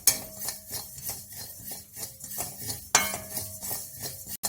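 Ajwain seeds being dry-roasted in a hot iron pan, with repeated scraping and clinking of a metal spoon stirring against the pan in a steady rhythm, close and moderately loud, with no voices.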